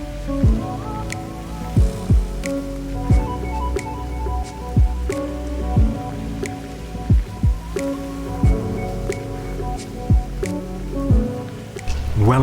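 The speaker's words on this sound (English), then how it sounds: "We're hit by rain, so stuck in the car now." Raindrops patter and tap on a car roof at an uneven pace in Stockholm, with periodic louder drops and a low steady hum beneath.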